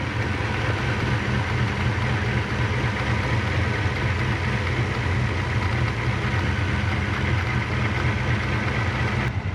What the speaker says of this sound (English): Oh yeah, and the throttle's chattering too.